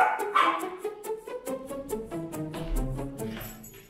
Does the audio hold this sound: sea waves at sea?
no